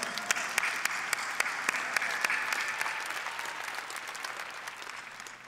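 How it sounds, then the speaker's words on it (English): Audience applause at the Olympia Weekend bodybuilding event, dense steady clapping from a large crowd that slowly fades over several seconds, with sharp individual claps standing out. "Let's give them all a great big round of applause."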